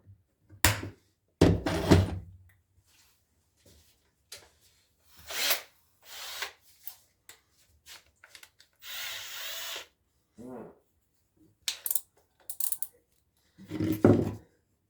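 A power drill with a 9/64 bit bores screw holes in several short bursts, the motor whining up and stopping between runs, close and fairly loud with quiet gaps.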